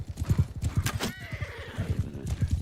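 Horse hooves clip-clop at a steady galloping rhythm in the medieval combat game Bannerlord, close and fairly loud, with a brief whinny partway through.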